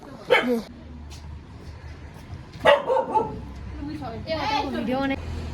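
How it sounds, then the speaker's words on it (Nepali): A dog gives a few sharp barks spaced a couple of seconds apart, amid background chatter and a low hum, on the way from Siliguri to Darjeeling. "कुकुरले भोक्नु सुरु गरिसक्यो।"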